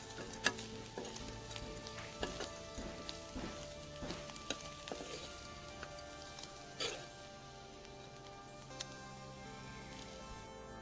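Ingredients for a Bengali bhorta fry until browned in a pan, giving a soft, steady sizzle dotted with scattered light clicks and stirring taps, fairly faint and close, with occasional brief background noises.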